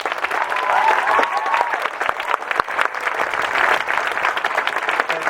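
Audience at a graduation ceremony clapping heartily, a dense, sustained burst of applause across the hall that stays loud throughout with a few scattered cheers mixed in.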